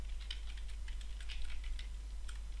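Quick, light clicks of a computer keyboard being typed on at close range, irregular bursts of keystrokes over a faint low hum, with no talking.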